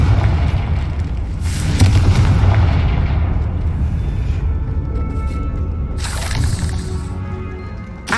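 A Confringo blasting spell detonates in a video game with a deep, rumbling boom that swells and lingers, followed by a second sharp burst near the end, loud and close with no voices.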